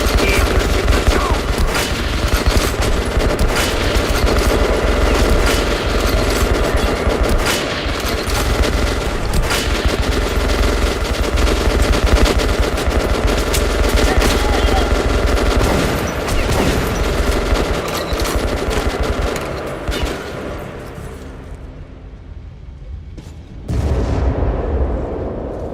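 Sustained suppressive machine gun fire in Metro Last Light Redux, a loud, dense fusillade of rapid shots with explosions mixed in, running continuously before thinning out near the end, then a brief final burst.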